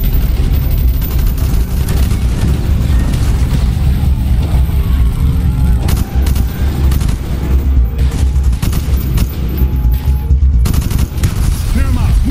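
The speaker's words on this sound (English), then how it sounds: "Bowman, Carlos, lay down covering fire" Sustained gunfire from the Bay of Pigs mission in the video game Call of Duty: Black Ops, with dense overlapping bursts and explosions over a loud, constant battle din.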